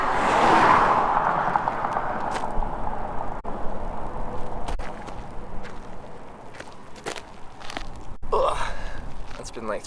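Cars pass one after another along a road near Santaquin, Utah, heard from the roadside as a steady broadband whoosh with swelling and fading passes, while a person breathes and shuffles nearby.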